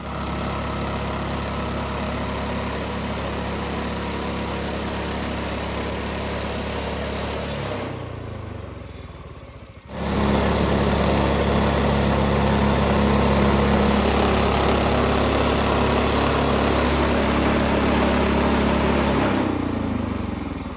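Sawmill engine runs steadily while milling a 10-foot white oak beam, a loud, continuous drone with a brief dip in pitch midway before the engine roars back to full power.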